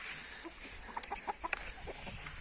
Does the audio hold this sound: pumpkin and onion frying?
no